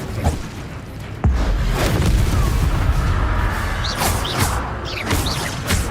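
An Incendio fire spell from a Harry Potter video game goes off with a sudden heavy boom, then a loud roaring rush of flame. Swishing bursts keep rising over it to the end.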